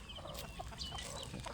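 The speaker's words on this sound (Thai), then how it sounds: "ไก่" Free-range chickens on a backyard farm in the early morning, with soft clucks and short calls scattered over steady outdoor background noise at moderate distance.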